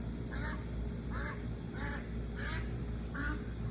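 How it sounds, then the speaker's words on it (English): Ducks quacking outdoors at a rural off-grid homestead, five evenly spaced quacks over a steady low background hum, moderately distant. "there goes them ducks"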